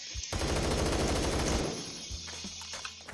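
M4 rifle fire in Phantom Forces, a rapid, loud, dense burst of automatic shots lasting over a second, followed by a few scattered clicks and thumps.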